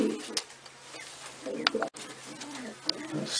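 Pigeons coo softly in low, throaty murmurs, with a few faint flutters and bumps nearby.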